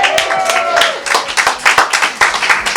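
A brief burst of audience clapping and applause at a business seminar, loud and close, with a brief voice at the start and irregular claps thinning toward the end.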